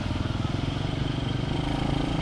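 Motorcycle creeping through a traffic jam: a steady, close engine drone with a rapid pulsing idle beat, continuous and fairly loud, with no voices.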